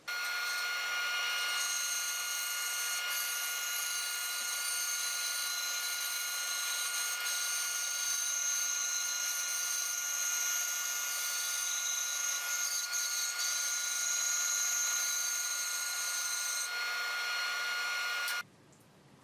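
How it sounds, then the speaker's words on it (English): A cherry board is resawn lengthwise on an Accu-Slice system fitted to a saw, using a coarse 4 teeth-per-inch blade: a loud, continuous whining cut that runs steadily for about eighteen seconds, then stops abruptly. "So I'm going to go ahead and cut this piece of cherry. Again, I'm using this 4 teeth per inch blade."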